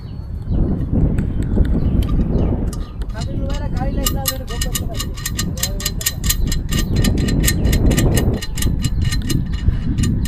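A wrench ratchets a jam nut onto a bolt of a faulty rural electricity transformer, with rapid metallic clicks in bursts and louder spells near the end, under constant nearby talk from workers.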